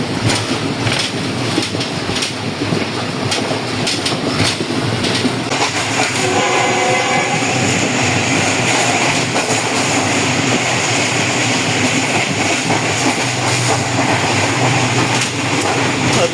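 A Pakistan Railways Sir Syed Express train rolls along the rails in rain near Gujar Khan with a continuous loud rumble and rhythmic clatter of wheels, heard from on board, no talking.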